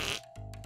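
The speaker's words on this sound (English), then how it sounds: "We're not the only ones who fart." A short fart, faint and close, with a brief hissy burst followed by a low buzzing rasp, heard alone with no talk.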